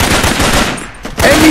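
Loud bursts of machine-gun fire in the Raven Squad jungle shooter video game, close rapid shots that pause briefly and then resume.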